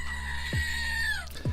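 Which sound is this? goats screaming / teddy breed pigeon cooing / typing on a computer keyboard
goats screaming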